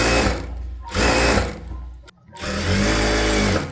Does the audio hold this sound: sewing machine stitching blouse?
yes